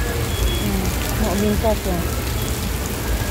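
Steady rain falls on an outdoor Ramadan bazaar in Woodlands, a constant wash of drops beneath nearby voices talking.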